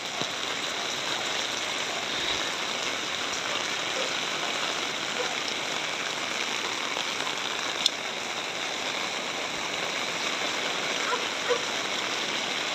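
Rain falling steadily during a storm, a dense even hiss of drops that carries on without letup, with a few faint voices low underneath.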